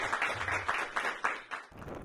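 An audience at a twentieth-anniversary media event for Latin America and the Caribbean breaks into brief applause, a burst of many hands clapping in quick overlapping waves that fades after about two seconds.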